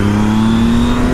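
A motorcycle engine revving hard in second gear as the rear tire spins, a loud, steady, close drone with a rising tone throughout.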